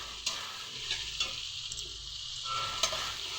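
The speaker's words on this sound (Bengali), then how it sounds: "এটা ভালো করে ভাজবো মশলাটাকে।" Ginger and green chilli paste frying and being stirred in a pan, a steady close sizzle with a few brief scraping clinks of the spoon, no talking.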